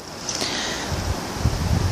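Wind blowing outdoors on a very windy day in a garden, a steady broad rush with gusty low rumbling buffets on the microphone, close and fairly loud, with no talking.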